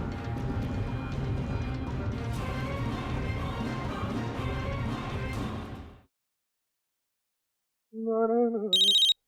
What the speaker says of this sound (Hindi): अरे किसका फोन आ गया?